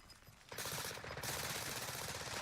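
Rapid automatic gunfire from Call of Duty Warzone erupts after a brief quiet moment, continuing as sustained bursts with a short gap, loud and close.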